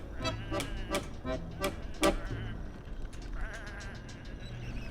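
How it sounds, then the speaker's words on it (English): Sheep bleating in the video game Whateverland, a rapid series of about six wavering bleats close together, fairly clear and moderately loud, then softer bleats trailing off. "Come on, these are just sheep."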